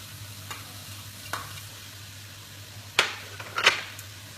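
Chopped onions fry with browned mince in a pan, a steady soft sizzle broken by a few sharp scraping stirs of a utensil, close and with no talk.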